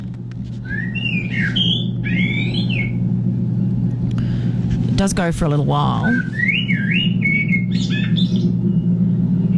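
A currawong's warbling, fluting call, played back in a radio studio, comes in phrases over a steady low hum, with someone speaking briefly in the middle.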